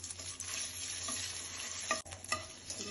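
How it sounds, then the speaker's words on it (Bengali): Boiled, squeezed soybean chunks fry in hot oil for a biryani, giving a steady close sizzle with occasional stirring scrapes and bubbling pops. "সয়াবিনটাও ভেজে নেব।"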